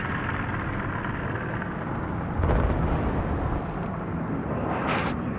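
High-explosive shells striking a ship in the naval battle game World of Warships, a continuous roar of impacts and booming blasts with a sharper hit midway, no voices.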